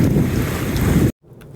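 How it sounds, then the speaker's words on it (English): Wind whips hard across the water of a sheltered bay by a boat near Double Island Point, a loud steady roar of gusting noise on the microphone that cuts off abruptly, leaving a much quieter breeze. "the wind is still whipping across the surface"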